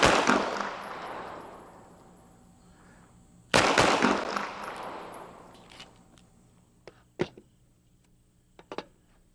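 Two loud pistol shots during shooting practice, the second about three seconds after the first, each with a long echoing decay, followed by a few fainter sharp cracks that could be distant shots or clicks.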